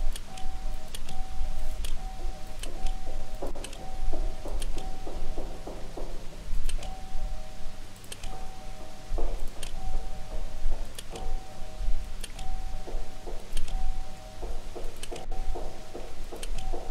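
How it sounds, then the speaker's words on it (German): A doorbell in the video game Obduction chimes in repeated short tonal rings at fairly regular intervals, over a low mechanical hum and faint ticking clicks. "Ich werde trotzdem nochmal klingeln,"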